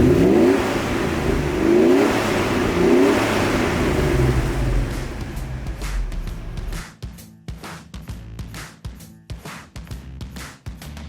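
A Mercedes E60 AMG engine roars steadily under load as the car accelerates, then breaks into a series of sharp, spaced revving bursts and throttle blips, loud and close throughout.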